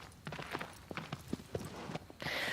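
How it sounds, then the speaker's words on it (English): Horse hooves clip-clopping in the video game Shadow of the Colossus, a series of irregular moderately faint hoof strikes against a quiet background, with a brief louder rushing noise at the end. "Okay, my horse is stuck in the tree."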